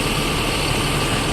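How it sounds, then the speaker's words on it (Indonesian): A Laksana SR2 HD Prime bus with a 1526 NG engine idles at a Padang Panjang bus terminal, giving a loud, steady low rumble with no change over the short stretch. "Bus dengan bodi Laksana SR2 HD Prime serta mesin yang sama dengan bus ANS yaitu 1526 NG."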